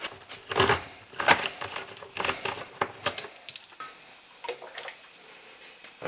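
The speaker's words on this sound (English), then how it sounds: "I rinse out my cans, remove the label," Metal food cans being rinsed and handled at a kitchen sink, with irregular clinks, knocks and clatters of tin against the sink alongside splashes of water.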